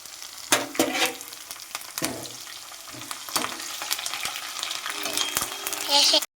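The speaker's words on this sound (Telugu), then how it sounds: "తర్వాత ఓ రెండు రెమ్మల కరివేపాకు" Curry leaves sizzle in hot oil with half-fried onions for a village-style chicken fry, a steady crackling fry broken by sharp spits and stirring scrapes, close and fairly loud throughout.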